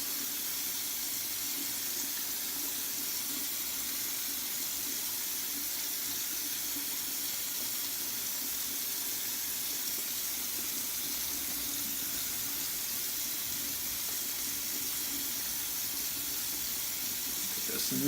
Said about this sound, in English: Rinse my hand off.